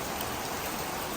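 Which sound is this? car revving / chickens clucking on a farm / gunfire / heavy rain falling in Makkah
heavy rain falling in Makkah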